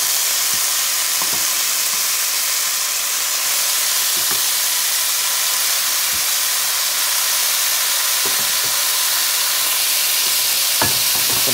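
Beef pieces are stirred into a sizzling sancocho base in a pot, giving a steady, loud hiss of frying with soft, scattered scraping and stirring knocks throughout.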